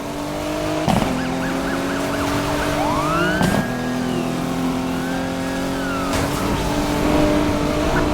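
Police sirens wail and whoop throughout a car chase in the video game Need for Speed Heat, with rising and falling tones over a steady engine drone and a few sharp impacts.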